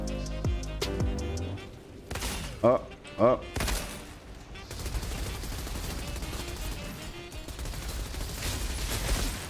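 Gunfire crackles in the Outriders shooter game, with a couple of sharp, loud sniper-like reports in the middle amid dense battle noise and music, while someone talks briefly over it.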